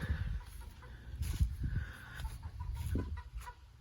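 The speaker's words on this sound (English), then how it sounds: "Chickens, stop making noise." Chickens cluck in short repeated calls close by in a garage workspace during a Camaro teardown, with low background rumble and no talking.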